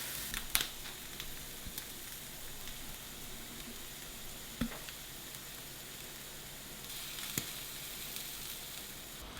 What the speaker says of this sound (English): these have been cooking away for quite some time, and it's now time to build our burger